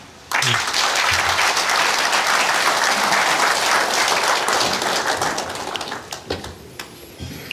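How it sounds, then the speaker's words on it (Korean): An audience welcomes presidential candidate Hong Joon-pyo at a televised debate with loud applause that starts abruptly, holds steady for several seconds, then thins toward scattered claps. "바쁜 유세 일정 가운데서도 자리해 주신 홍준표 후보를 박수로 맞아 주십시오."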